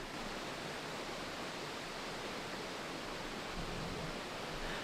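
A mountain creek near a preserved Idaho ghost town rushes steadily, a constant soft hiss of flowing water with no voices, even and unbroken throughout.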